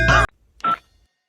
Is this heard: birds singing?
no